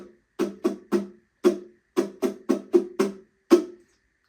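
Muted ukulele strumming plays a choppy pre-chorus rhythm, about ten short percussive strums in uneven groups, close and fairly loud with silence between hits and no talking.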